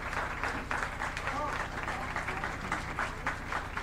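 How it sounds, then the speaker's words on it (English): Applause at a moot court prize distribution ceremony fills the room, a dense, steady wash of many hands clapping with speech mixed in throughout. "A huge round of applause for Pratishtha"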